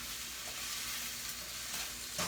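Mixed vegetables cooking in a pan, a steady close hiss of frying with light stirring throughout and a louder scrape at the end.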